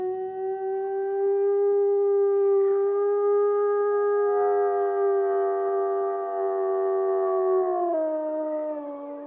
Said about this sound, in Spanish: la reproducción de los aullidos grabados en un simple magnetófono